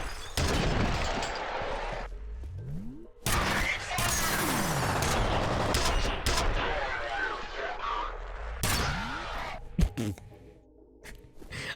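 Gunfire in the shooter game F.E.A.R., heavy bursts of shots and impacts in dense, loud runs with brief pauses and slowed-down drops, under some speech.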